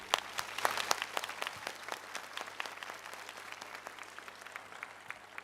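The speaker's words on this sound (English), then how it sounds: "This applause is for you." A school audience claps for Commander Williams during an ISS radio contact, a faint, distant spatter of individual claps that gradually thins out, heard alone with a low hum underneath.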